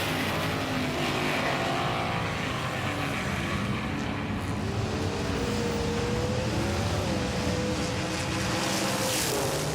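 Race cars, among them a Mercedes, roar around turn 1 in a continuous loud engine drone, with rising and falling pitch sweeps as they accelerate through the corner; no voices.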